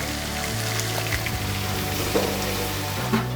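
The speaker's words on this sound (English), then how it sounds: "Let the oil get all over the eggs. Let it cook." Eggs and wild onions fry in oil with a steady, close, crackling sizzle that holds at an even level throughout, broken only by a couple of slightly louder pops near the end.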